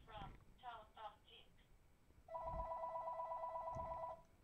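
A telephone rings in a rapid warbling trill that starts partway through and carries on steadily, after several bursts of musical keyboard tones at the start.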